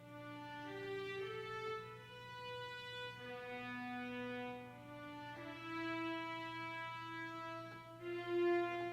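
Spitfire Audio Studio Strings Professional sample library played with its built-in reverb at default settings: sustained string chords glide slowly from one to the next, each swelling and trailing off into a lingering reverberant wash, with no voices.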